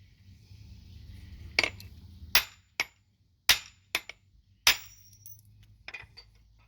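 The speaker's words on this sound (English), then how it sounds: "I cut that nail in half." Knife blade striking and cutting through a steel nail, a handful of sharp metallic clanks and taps spaced irregularly, close and crisp against a quiet background.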